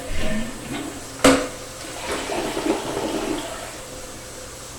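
A freshly reseated toilet flushes close by with a rushing swirl of water, a sharp clunk near the start, then a steady draining gurgle as the bowl and tank refill.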